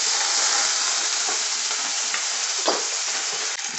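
Garlic and green chilies sizzle in hot oil in a kadai, a loud continuous frying hiss with a few stirring scrapes, close up and with no voices.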